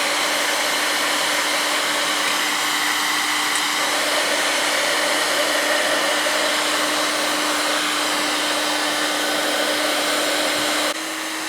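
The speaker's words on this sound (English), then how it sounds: "I'm going to use a electronic heat gun and warm it up" An electronic heat gun blows hot air onto a stud on a Land Rover engine, a steady, loud whooshing drone like a hair dryer that runs unbroken and then switches off at the end.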